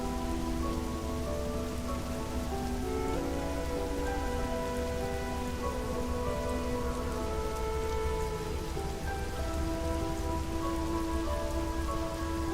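Steady heavy rain pours on a remote planet, a dense continuous hiss of drops on surfaces with a low rumbling undertone, loud and unbroken throughout with no voices.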